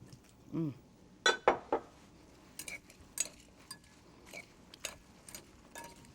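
Salad leaves tossed in a bowl with oil and vinegar, with scattered clinks and clatters of utensils against the bowl, some sharp and close, others softer, spread irregularly with quiet gaps.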